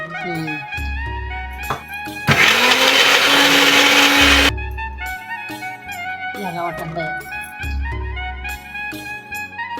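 A kitchen mixer grinder whirs loudly for about two seconds, finely grinding ingredients for an Agri-Koli style shevla vegetable dish, with people talking before and after the burst.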